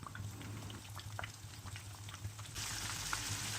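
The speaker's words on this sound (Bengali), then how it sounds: "তেলটা বেশ গরম হয়ে গেছে। তো একে একে মাছগুলো আমি ছেড়ে দেব" Fish pieces coated in gram flour batter fry in hot oil in a pan, giving a steady bubbling sizzle that swells louder near the end, with no talking.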